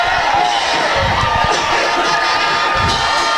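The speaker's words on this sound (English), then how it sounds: "no doubt a crowd that's very appreciative of a Newport Greyhound football team" A dense, loud crowd cheers and shouts continuously at a high school football game, fans of the Newport Greyhounds roaring together throughout.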